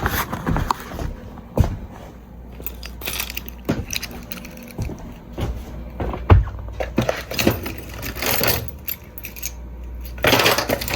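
A bunch of keys jangles and clinks in irregular bursts, close up, with sharper metallic rattles spaced between quieter pauses and no speech over it.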